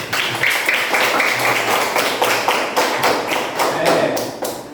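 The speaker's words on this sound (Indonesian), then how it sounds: "Beri tepuk tangan." A classroom of students claps for a classmate, a loud run of uneven, overlapping hand claps with some thumps and taps, steady and close for the whole stretch.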